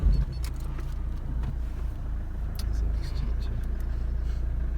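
A 2011 Opel Astra 1.7 CDTI diesel engine idles steadily, with a deep, even rumble that holds through the whole stretch and a few faint metallic clinks above it.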